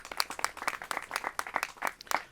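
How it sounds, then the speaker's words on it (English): Light, quiet applause from a small crowd at a Cook County Land Bank ribbon cutting, made of distinct separate claps in an uneven rhythm with no voices. "Let's give her a round of applause."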